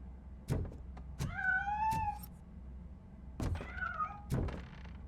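A cat meows twice in RoboCop: Rogue City, each call a rising, drawn-out wavering cry, with soft thuds and low background hum around them.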